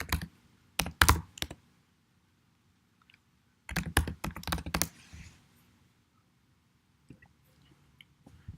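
Backup recovery words are typed on a computer keyboard in two quick bursts of crisp clicking keystrokes, separated by a pause, with a few scattered taps near the end.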